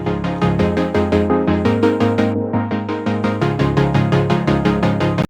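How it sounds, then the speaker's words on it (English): A plucky, detuned saw-wave synth with low-pass filtering plays a progressive house pattern as a steady stream of rapid, evenly spaced notes over sustained bass, loud and continuous before stopping abruptly at the end. "It's a detuned saw wave with some"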